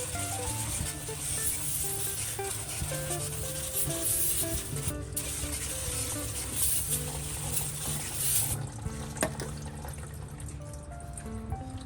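Brake cleaner sprayed into the open housing of an AAM 10.5 differential with milky oil, a continuous close hiss with wet dripping and rinsing, pausing briefly twice, alongside low tonal background hum and no talk.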